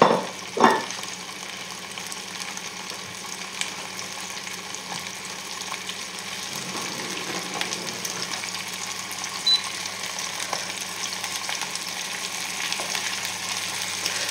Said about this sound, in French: on les met dans la poêle, voilà, et on fait frémir